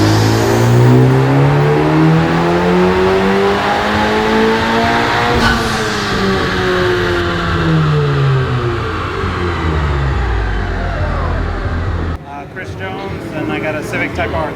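A 2019 Honda Civic Type R with full bolt-ons and an upgraded E30 fuel system screams through rising and falling revs on a dyno, loud and close, with people talking over it.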